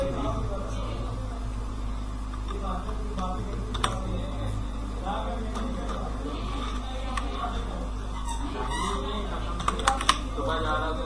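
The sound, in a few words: typing on a computer keyboard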